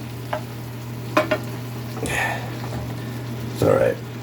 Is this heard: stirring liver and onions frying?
yes